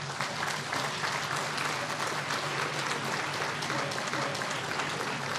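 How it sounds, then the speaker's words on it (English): Sustained applause from a large audience during a ministerial keynote address at Robben Island, a dense continuous wash of clapping at moderate distance with faint voices underneath. "Can we give them a hand of applause?"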